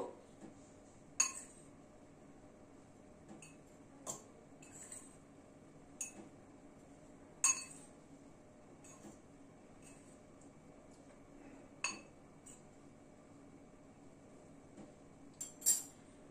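Potato wedges being tipped into a plate for coating, heard as faint scattered clinks and light taps of cutlery against dishware at irregular intervals over a quiet background.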